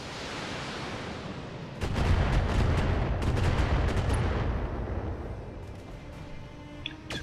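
Mech weapons firing in the BattleTech game, a sudden heavy burst of booming, crackling shots that starts a couple of seconds in and rumbles loudly, then slowly fades.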